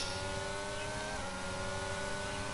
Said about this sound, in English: Side by side, that Ferrari and the Aston Martin.